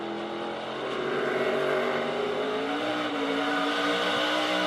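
Race car engine heard onboard during a qualifying lap at the Tyson 250, a loud continuous high-revving roar with pitch climbing and dipping as the throttle opens and eases, without speech.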